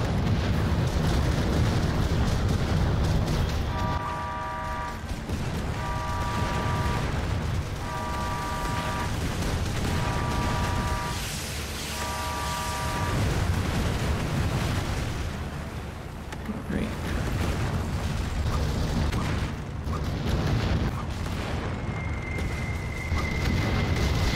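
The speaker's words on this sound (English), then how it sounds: "Bombing runs." Bombing-run explosions in the Final Assault VR strategy game keep up a dense, continuous rumble of booms and blasts across the whole stretch, with repeated beeping game tones layered over it.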